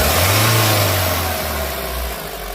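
Mahindra Bolero Pickup 1.3 BS6 diesel engine, freshly repaired after an EGR cooler problem, revved close up: a loud rising roar that holds, then eases back toward a steady rumbling idle.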